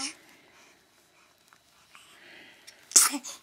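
A baby gives one sharp, high little sneeze near the end, after quiet rustling and soft background sounds.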